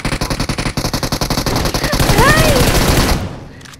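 Automatic gunfire in the mobile shooter BGMI rattles in one loud, close, rapid stream of evenly spaced shots for about three seconds, then cuts off abruptly.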